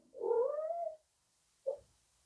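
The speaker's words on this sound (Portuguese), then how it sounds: "A minha gata tá aqui." A cat gives one drawn-out meow followed after a short pause by a brief clipped second call, both close and clear in an otherwise quiet room.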